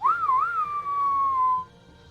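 A single clear whistled tone that wavers up and down at first, then holds a long steady pitch before cutting off, loud and close with no speech.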